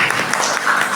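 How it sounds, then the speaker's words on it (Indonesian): Audience at a school essay-writing competition final in Indonesia claps briskly and loudly for about a second, a dense close patter of many hands. "Beri tepuk tangan yang meriah."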